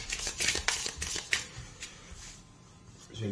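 Exploration cards for a board game being shuffled by hand, giving quick riffling bursts of papery flutter at close range that taper off toward the end.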